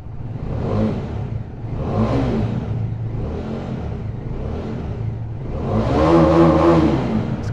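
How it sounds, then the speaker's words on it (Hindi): An RR motorcycle engine revs repeatedly in rising and falling surges in Ladakh, four swells followed by a longer, louder rev near the end, close and steady. "बाकी का मैं आपको RR का साउंड सुना देता हूँ एक बार"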